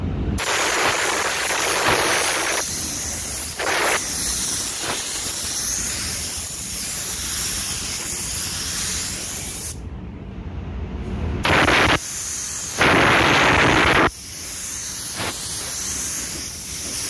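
Cheap Chinese-made spray gun painting a car, a loud continuous close hiss of atomized paint that runs in long bursts, with brief pauses where the trigger is released and then pressed again.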